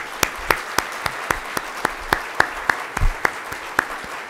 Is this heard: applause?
yes